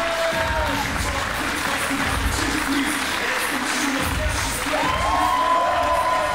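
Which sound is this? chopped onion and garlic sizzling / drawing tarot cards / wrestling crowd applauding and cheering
wrestling crowd applauding and cheering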